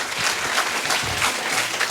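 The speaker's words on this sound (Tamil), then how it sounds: "இதுக்கு ஒரு பெரிய கைத்தட்டல் பண்ணலாமே" Sustained audience applause fills a college induction program hall, a dense steady wash of many hands clapping together with no voices over it.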